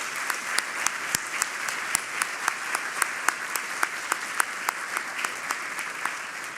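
Large audience applauding graduating students at a Boise State University ceremony, a continuous dense roar of clapping with sharp individual claps standing out close by throughout.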